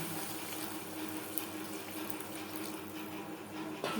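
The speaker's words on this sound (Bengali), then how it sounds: "দিয়ে দেব জল" Water pours steadily into a pan of fish curry masala cooking over a low to medium flame, a faint continuous splashing trickle with nobody speaking.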